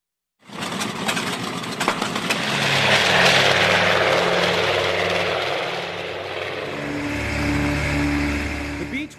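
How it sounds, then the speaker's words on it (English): A vintage B-25 bomber, a World War II-era warbird at a museum in Batavia, runs its piston engines with a loud, steady propeller roar that swells and holds, its deep drone rumbling throughout without speech. "The B-25 bomber"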